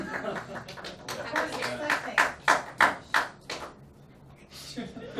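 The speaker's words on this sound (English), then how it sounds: "like how that got a clap" A small audience at a game development club meeting claps in a sparse run of distinct, fairly close claps that build, then die away. Talk continues around the clapping.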